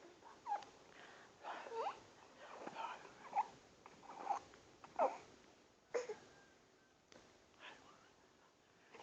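A dog whimpers and whines softly in short, repeated bursts with small snorts, quiet and close.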